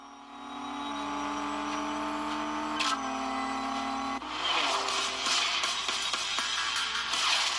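In the mobile drag racing game CSR Racing, a car engine revs up through rising tones, then shifts abruptly and runs on with a rougher, noisier roar, fairly quiet and without talk.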